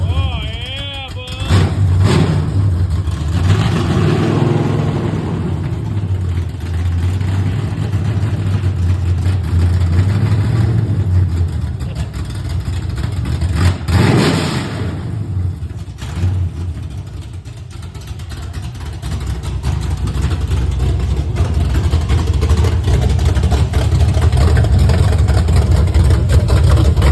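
A car engine idles and revs loudly through a new Spintech exhaust with an X-pipe, a deep, steady rumble that swells and dips over nearly half a minute, close to the listener, with brief voices mixed in.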